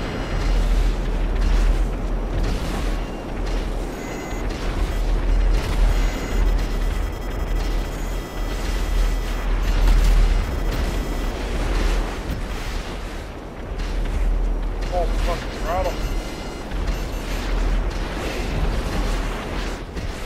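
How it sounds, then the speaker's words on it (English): A missile blast in Grand Theft Auto V rumbles out as a long stretch of loud, deep explosive booms and roaring noise, with scattered pops and bangs continuing throughout. "I hit you with a missile"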